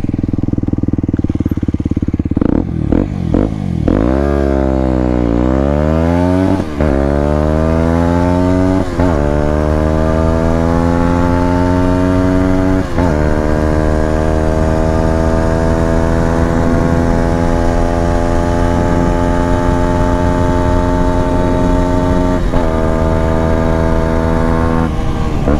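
An Aprilia SX 125 motorcycle accelerates hard from a standstill toward 100 km/h, its loud, close engine whining up in pitch through several gears, with short drops at each shift before settling into a sustained high-revving buzz.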